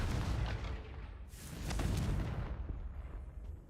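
A Confringo fire spell in Hogwarts Legacy lets off a muffled booming blast with a rumbling, crackling tail that swells and then fades over a few seconds.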